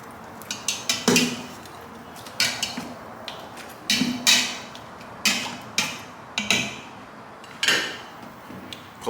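Birria ingredients stirred inside an Instant Pot, a spoon giving sharp metallic clinks and scrapes against the pot in irregular bursts, fairly close and quiet otherwise.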